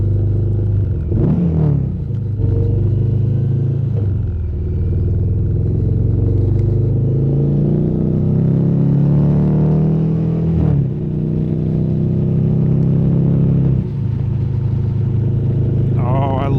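An Indian Challenger motorcycle with stock exhaust rumbles steadily at close range, its low exhaust note rising and settling as it idles and revs, with a voice over it.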